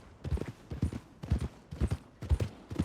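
Horse hooves clip-clop at a steady walking rhythm in Red Dead Redemption 2, close and clear, repeating in paired beats with no speech over them.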